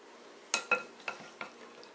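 Bruschetta tomato salad scooped onto a plate: four soft, close clinks and scrapes of a utensil against the dish, spaced unevenly over a quiet background.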